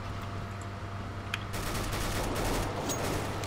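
Rapid bursts of gunfire from a CS:GO deathmatch, a steady broadband rattle that grows louder partway through, with a faint hum running beneath it.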